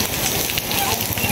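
Steady rain pours down with a dense, even hiss, close and continuous, with a voice talking faintly beneath it.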